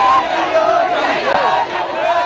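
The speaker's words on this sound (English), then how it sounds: "Waving U.S. flags and chanting songs of praise, the crowd brought the convoy to a virtual standstill" A crowd of Liberians waving U.S. flags cheers and chants in song around a stopped convoy, a dense wash of many voices at steady loudness throughout.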